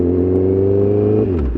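Honda CBR1000RR sport motorcycle engine idling along under 3,000 RPM, a steady, loud low hum with even harmonics that dips slightly near the end.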